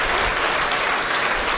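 Church congregation clapping during a worship service, a dense continuous patter of many hands, loud and steady for the whole moment with no voices.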